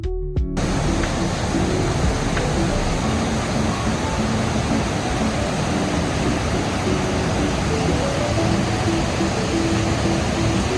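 River and waterfall at Idaho Falls, a constant loud rush of falling and churning water forming an unbroken wash of noise from start to finish, with no talk over it.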